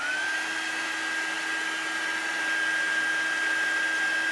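A hair dryer blows steadily on painted artwork, a constant close whooshing roar with a thin high whine that rises briefly at the start, then holds level with no talking.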